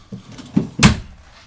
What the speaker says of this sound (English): We'll look at these drawers here at the foot of the bed.